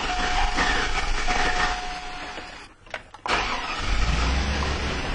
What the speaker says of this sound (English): The engine sounds much, much better.